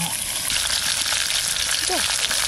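Sea crab frying in hot oil makes a dense, constant sizzle close by, with a short faint voice-like squeak near the end and no speech.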